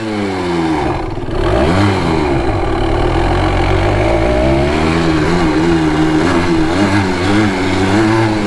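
A Honda ATC 250R three-wheeler engine revs hard while ridden, pitch sweeping up and down through repeated throttle bursts, loud and close throughout.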